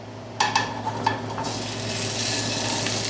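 Shrimp drop into a very hot pan with a touch of extra virgin olive oil: a few sharp metallic clinks, then a bright, loud sizzle that swells and keeps hissing steadily.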